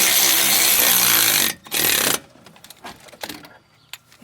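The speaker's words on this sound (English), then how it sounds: "So we're gonna get these bolts snug, okay?" Bolts on a Ford Ranger wheel bearing are run snug with a power tool. A loud, steady whir is heard up close, then it cuts off, and a few faint clanks and taps follow.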